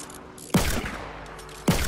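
Sniper gunshots in a Fortnite Battle Royale sniper shootout match: two loud, sharp cracks about a second apart, each with a short echoing tail, over quiet game ambience.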